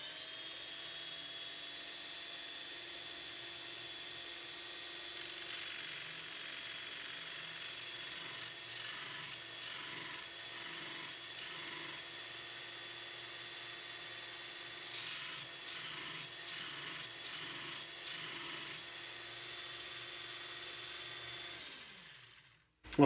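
Parkside PBSG 95 C3 drill bit sharpener running: a steady, fairly quiet motor hum with repeated short bursts of grinding as a bit is worked against the stone, then a winding down at the end, with no speech.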